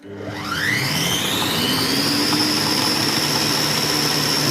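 A food processor spins up and holds a steady high whine at speed 12 while blending homemade mustard, its pitch rising over the first second and then settling into a loud, even drone with no voices.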